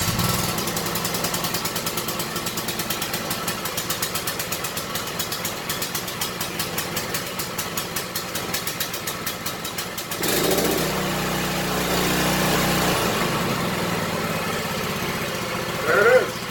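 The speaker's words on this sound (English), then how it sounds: "Oh yeah, switch on." A small minibike engine fires up and runs with a fast, steady chugging putter for about ten seconds, then its tone shifts to a rougher, louder idle that continues near and alone.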